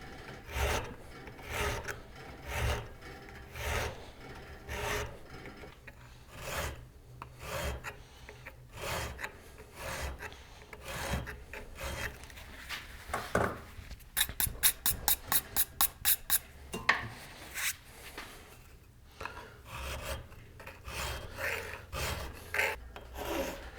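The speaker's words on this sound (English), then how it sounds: "Let me see if I can hit with a hand file." Steady back-and-forth rasping strokes of a bastard mill file worked by hand across an aluminum part, close and rhythmic with brief pauses, including a quick run of faster short strokes partway through.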